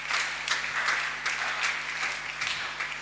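A church congregation applauds at a Sunday service, several short rounds of clapping rising and falling over a faint steady hum, with no speech.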